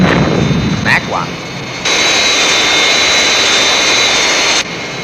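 A jet aircraft taking off, a loud sustained roar with a high whine that surges midway and holds, then briefly drops, with a short voice near the start.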